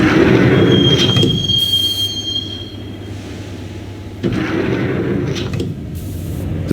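A train in the video game Max Payne rumbles along steadily with a high metallic wheel squeal, a low hum and clattering, loud and close throughout.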